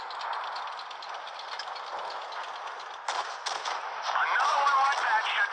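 Gunfire and impacts in the World of Tanks video game, a steady rattling battle din with a few sharp bursts partway through, heard under a Romanian-speaking player's voice.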